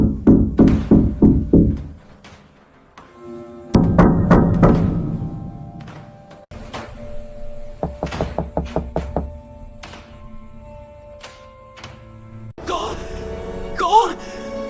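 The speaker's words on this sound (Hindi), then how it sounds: "आधी रात को उसके दरवाजे पर खटखट हुई।" Knocking on a hotel room door at midnight: two bursts of several sharp knocks in quick rhythm, then further raps later, separated by quiet stretches, with a voice speaking afterward.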